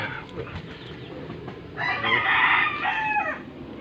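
Chickens and a rooster kept as backyard poultry, with scattered clucks at first, then a loud, close crow from about 1.8 seconds that rises and trails off near the end.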